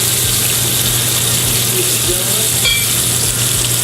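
Mushrooms sauté with wild turkey breast in a restaurant pan, a constant, loud, close sizzle with a low steady hum from kitchen equipment underneath and a brief clink partway through.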